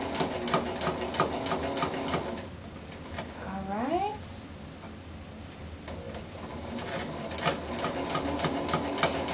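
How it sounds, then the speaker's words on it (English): Sewing machine stitching along a seam with a few back stitches, short rhythmic mechanical whirring bursts at close range, stopping and starting as a person talks between runs. "I'm going to go ahead and lower my needle in, and I'm going to do a couple back stitches."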